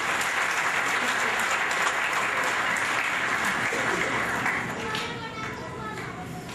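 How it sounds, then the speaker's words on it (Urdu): An audience applauds steadily throughout at an evening event honouring a gold medallist in Pakistan, dense clapping that fades slightly toward the end. "بہت ساری تالیاں سب کے لیے."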